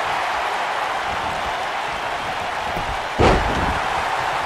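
A crowd at an IWA women's wrestling show keeps up a steady, loud roar of cheering, broken near the end by a single heavy thud.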